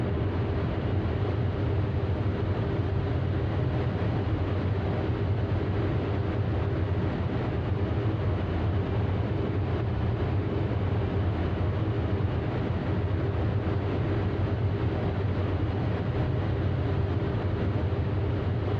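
Loud, steady wheel-well roar inside an Inibuilds A350 airliner in flight, a constant broadband rumble with a low hum that holds unchanged throughout, with no voices.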